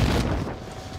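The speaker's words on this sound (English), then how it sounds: "Throwing a smoke grenade!" A smoke grenade thrown in Call of Duty: Modern Warfare, heard as a short loud whooshing burst with a deep rumble that fades quickly within about a second.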